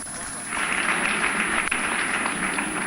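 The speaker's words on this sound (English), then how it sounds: "I thought you were going to give him a round of applause." An audience breaks into a round of applause at an award and fellowship introduction for Dr. Adesina, the steady clapping rising after a half-second lull and holding evenly, dense and close, to the end.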